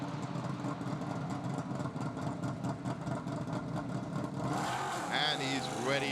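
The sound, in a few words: race car engine starting and idling in pit stop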